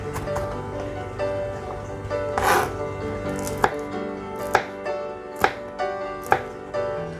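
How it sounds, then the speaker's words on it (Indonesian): A knife chops garlic and chili peppers on a cutting board for sambal petis, with about half a dozen sharp, evenly spaced strikes close by, plus a louder scraping clatter early on. "ini bawang putihnya dengan cabenya akan saya potong-potong dulu"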